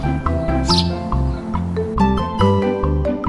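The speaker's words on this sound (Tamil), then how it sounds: "ஸ்பேரோ," A sparrow gives a few brief, high chirps over a steady musical backing track.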